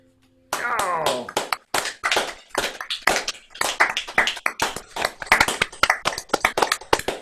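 Online folk club audience clapping over a video call, a burst of scattered, uneven applause from several people, close and fairly loud, with a voice audible along with it.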